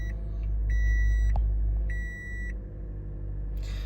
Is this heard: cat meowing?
no